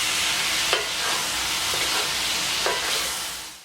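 Meat and melting cheese stirred in a pan for sliders, a continuous close sizzle with a few sharp scrapes of the utensil against the pan and no voices.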